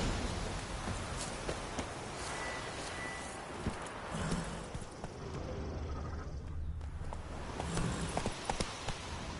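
A video-game horse named Roach galloping, its hoofbeats a steady rapid clatter under a wash of rain-like noise throughout.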